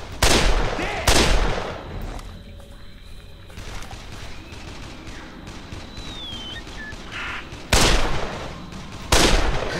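Gunfire in the Dead Island game: loud sharp single shots ring out near the start and again near the end, with a quieter stretch of distant bursts and ambient noise between them.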